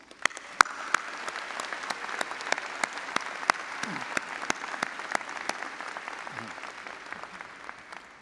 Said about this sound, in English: Please join me now in honoring all of them with a hearty round of applause.